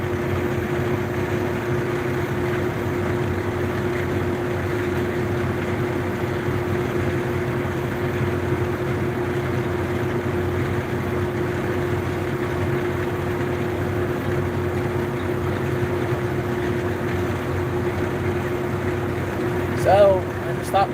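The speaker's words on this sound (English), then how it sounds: "I have the mower, I have the tractor, I might as well get out here in this nice weather and chop some stalks" A tractor pulling a mower chops corn stalks in a field, a steady droning engine hum with a constant low mechanical whir that continues unchanged, with a brief rattle near the end.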